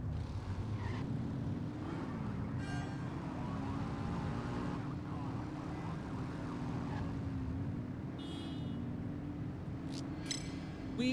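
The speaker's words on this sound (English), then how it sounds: "Get behind them and flip the siren to make them pull over." A police car siren wails in The Precinct, a continuous low, slowly wavering tone over a steady vehicle rumble, with a few sharp clicks near the end.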